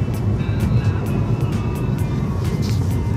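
Inside a new Ford Fiesta cruising at 140 km/h, a loud, steady roar of engine, tyre and wind noise fills the cabin without letup.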